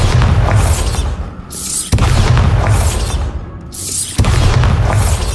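Booming spell blasts in the Hogwarts Legacy video game, three loud explosive bursts spaced roughly two seconds apart, each with a sharp onset and a heavy low rumble that decays into the next.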